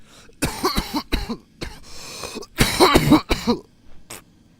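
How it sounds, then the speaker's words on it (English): Several harsh coughs and throat clearings come in quick clusters, close and loud, with short pauses between them. "sorry if you heard that cough"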